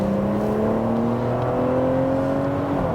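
BMW G81 M3 Touring with the S58 engine accelerating, a steady loud engine note climbing smoothly in pitch through the gears, close and continuous with no talking.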